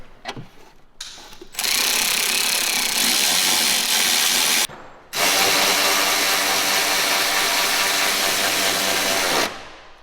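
A power tool drives bolts on the shock absorber top mounts of a Ford Focus Mk3 RS during a K-brace install, two loud sustained bursts of harsh mechanical whirring separated by a short pause.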